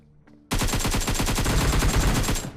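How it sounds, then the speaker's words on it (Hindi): Shotgun gunfire in the PUBG Mobile video game, a loud close burst that starts suddenly and rattles on as rapid repeated shots for about two seconds. "शॉटगन का साउंड आया है"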